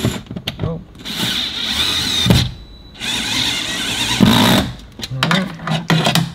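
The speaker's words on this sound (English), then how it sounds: "this drill gun has a light clutch" A cordless drill gun with a light clutch drives screws into a car speaker during installation in a 2019-2025 Volkswagen Jetta, giving repeated whirring bursts with short pauses between them, close by.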